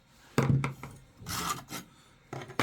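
Handling a cordless circular saw's edge guide while taking it off, giving short scraping and rubbing bursts with a couple of light knocks, close and fairly quiet with gaps between.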